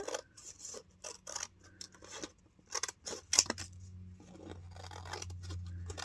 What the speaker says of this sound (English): So I'm going to cut it so it ends probably about there. And cut it about here.